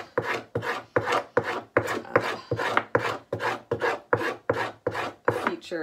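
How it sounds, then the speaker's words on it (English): Fish skin being scraped for leather tanning makes a steady series of about fourteen rasping strokes, close and evenly paced, each a short harsh scrape. "It's almost completely scraped, just a tiny bit more in the middle."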